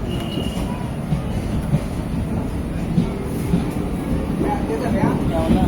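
A MEMU train running from Bangalore to Jollarpettai, heard from inside the carriage as a continuous low rumble with rhythmic wheel clatter and wind rush, steady and loud throughout, with occasional faint voices in the background.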